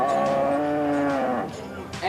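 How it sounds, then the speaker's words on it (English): A cow in a children's barnyard at the Minnesota State Fair gives a long, loud, close moo that holds steady, then dips and trails off, followed by a second shorter call rising at the end. "Anyone who'd like to try milking the cow can line up over here by Darren."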